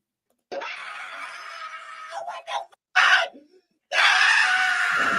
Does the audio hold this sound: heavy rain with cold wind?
no